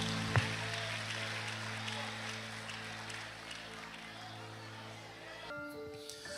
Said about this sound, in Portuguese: os que podem, tomem o seu assento aplaudindo a Jesus